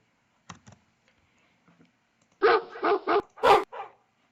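Dog bark sound effect played in Roblox Studio: a few soft keyboard clicks, then a burst of five close, loud barks in quick succession.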